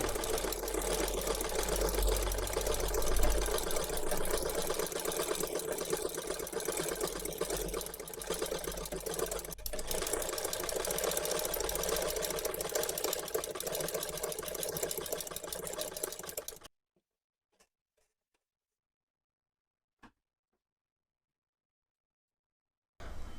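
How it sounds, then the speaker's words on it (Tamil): Small Badal sewing machine with a buttonhole attachment lowered, running steadily and loudly for about sixteen seconds, then stopping into near silence. "அட்டாச்மெண்ட்டை கீழே இறக்கி விட்டுட்டு மிஷினை ரன் பண்ணி காட்டுறேன்"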